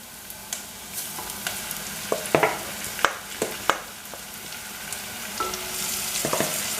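Beef pieces dropped into hot oil with browned onions and large dried chillies, sizzling loudly with a few sharp clatters and splashes as the meat lands and is stirred, close and without voices.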